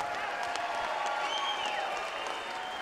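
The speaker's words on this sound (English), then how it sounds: "let's have a big round of applause for both of the fighters in this ring" Steady crowd applause fills an arena after a championship women's boxing fight, a dense continuous wash of clapping with faint cheering and a tonal whine running through it.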